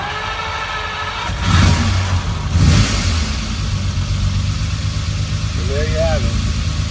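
A 1967 Ferrari 330 GT 2+2 engine cranks and catches inside a showroom, with two strong revs before settling into a loud, rough idle, while a person speaks briefly over it.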